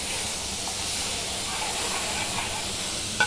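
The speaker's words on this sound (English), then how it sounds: "Now we're going to add garlic and ginger." Garlic and ginger hiss and sizzle in hot oil for a chicken tikka madras, a steady bright crackle close by with a small clack at the end.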